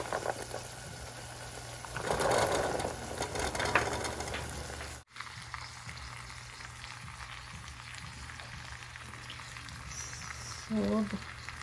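Boiled chickpeas being stir-fried in a cooked spice paste in a pan, a steady sizzle with scraping and stirring noises, a louder burst early on.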